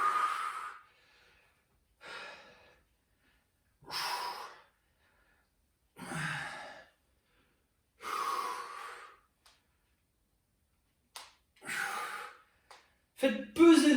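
Rhythmic, fairly close breaths during a pilates-style exercise workout: about eight strong exhales or sighing breaths spaced about two seconds apart, with quiet gaps in between and no talking.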